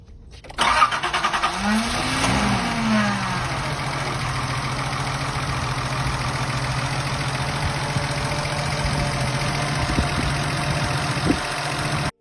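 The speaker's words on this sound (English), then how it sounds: "280ZX cold start. Everything's cold. Car hasn't been run." A cold 1981 Nissan 280ZX with manual transmission cranks and fires after a moment, revs up briefly, then settles into a steady, even idle. The engine is close and loud, and no voices are heard.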